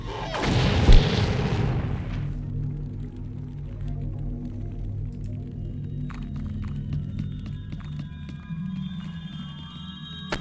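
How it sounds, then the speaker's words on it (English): A grenade goes off in the strategy game X-COM Apocalypse: one loud, close blast near the start, then a long decaying rumble under steady game music and effects. "That's a grenade."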